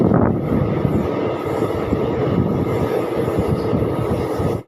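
A passenger train with ICF coaches rumbles steadily along a branch line after Farakka Junction, with a loud, continuous clatter of wheels that cuts off abruptly at the end.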